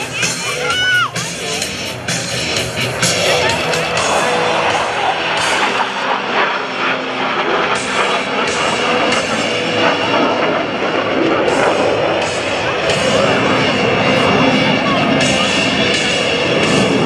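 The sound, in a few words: F-16 Fighting Falcon fighter jet flying aileron rolls at airshow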